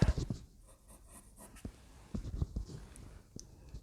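A pencil draws lines and curves on paper, producing close, faint scratchy strokes in short bursts separated by brief pauses, with no voices.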